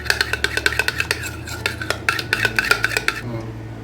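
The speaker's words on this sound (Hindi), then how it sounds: "हम बाउल में मायोनीज डाल लेंगे। थोड़ा सा इसको" A spoon stirs mayonnaise in a bowl, producing rapid rhythmic clinks against the rim, close and clear, with no voices over them.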